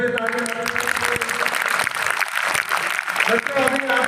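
Applause rings out at a school event honoring parents, a dense crowd clapping continuously and fairly loud for a few seconds, with voices mixed in.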